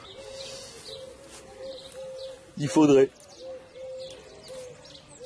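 Soft, repeated pigeon coos run steadily in the background while a person briefly speaks over them midway.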